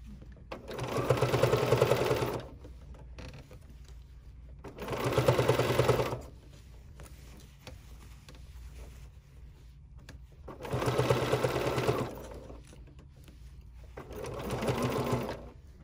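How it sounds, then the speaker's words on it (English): A sewing machine runs in four separate bursts of steady stitching, each about a second or two long, while sewing very close to the edge of quilting cotton for a butterfly basket. The bursts are clear and close, with quiet pauses between them. "I'm stitching really, really close to the edge."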